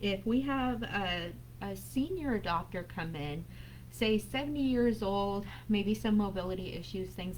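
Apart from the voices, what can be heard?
No everyday noise stands out behind the speech.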